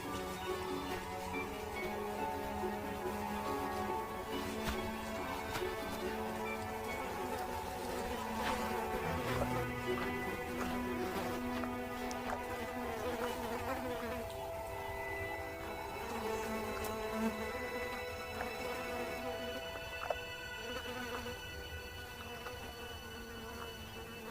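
Flies buzz continuously around lions in intense heat, their droning whine rising and falling as they circle, with no voices.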